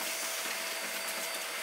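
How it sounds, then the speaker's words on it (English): A vacuum cleaner runs steadily inside the interior of a Lexus IS250 AWD under rebuild, giving a continuous broadband whoosh at close range with no pauses and no talk. "And now we're gonna vacuum."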